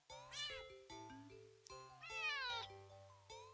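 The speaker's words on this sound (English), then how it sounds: "Oh, that's a demanding cat." Cat in the game Do Not Take This Cat Home meows repeatedly and insistently, several drawn-out, rising cries over a quiet music bed, loud and near with short gaps between calls.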